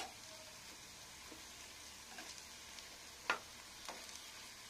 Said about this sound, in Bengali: আর ভালো করে ভাজতে হবে